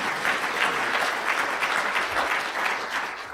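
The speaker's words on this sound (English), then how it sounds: "Yes, please applaud that." Audience applause at a summit welcome address, a loud, dense burst of clapping that holds steady for a few seconds without a voice over it.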